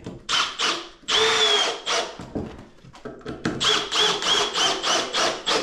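A power drill whines in bursts, pulsing on and off as it drives a screw into wood on a workbench, close and loud, with a longer steady run in the middle.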